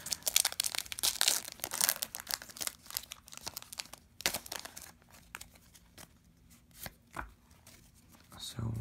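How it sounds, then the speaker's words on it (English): Pokemon XY Breakthrough booster pack wrapper being torn and crinkled open up close, a dense run of sharp crackling and rustling foil that thins out into scattered crinkles. "I'll be opening up this Breakthrough Booster Pack for you guys"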